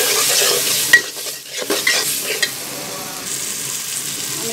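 Prawns coated with salt, turmeric and chili powder frying in hot oil in a pan, with a loud continuous sizzle and a few sharp stirring scrapes and clinks, with no voices.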